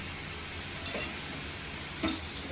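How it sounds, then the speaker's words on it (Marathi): Chopped tomatoes sizzle with onions roasting in a pan, a steady, moderate frying crackle broken by two brief clatters of stirring or utensil contact, without any speech. "आता त्यातच हे टोमॅटो टाकणार आहे भाजायला मी"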